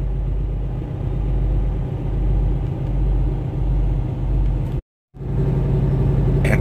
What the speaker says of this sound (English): you're sitting in traffic